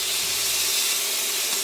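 Filet mignon searing in a cast iron skillet gives off a loud, dense, steady hiss of hot fat, close up and uninterrupted, with no voices.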